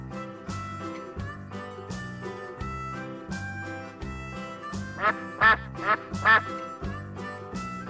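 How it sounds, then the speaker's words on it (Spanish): A duck quacks in several short, loud bursts toward the end, over a steady backdrop of cheerful children's music. "Duck."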